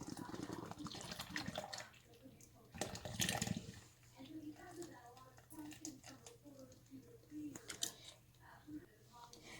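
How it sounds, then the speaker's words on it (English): A can of Supligen drink is poured into a bowl for porridge juice, a thick liquid splash and gurgle that swells for a couple of seconds, with a person talking around it. "I'm gonna pour this can of Suppergen in"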